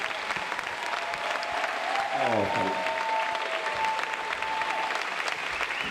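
Sustained applause from a concert audience for a big band at a concert in Slovenska Bistrica, steady dense clapping throughout with a brief tonal whistle-like sweep partway.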